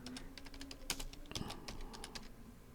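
Quiet, close clicking of a computer keyboard as code is typed, in irregular bursts of keystrokes over a faint steady background hum, with no talking.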